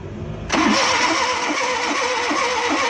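A Suzuki Bolan van that stalled while driving is cranked with the starter and catches, settling into a steady, loud, close idle that runs on without talk.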